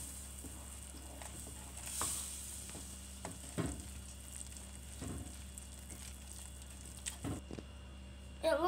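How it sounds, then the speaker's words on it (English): Choux pastry dough for eclairs, with flour just added, stirred in a pot over medium heat, a soft continuous scraping and sizzling with intermittent thicker squishy pushes, fairly quiet and close. "Now we're gonna put it back on medium heat and we'll keep stirring."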